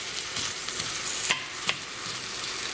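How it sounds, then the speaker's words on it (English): Butter and julienned onions sweat in a pan with a soft, continuous sizzle and a couple of brief stirring scrapes, and no voices. "The butter's in there, the onions. We're gonna just sweat this up"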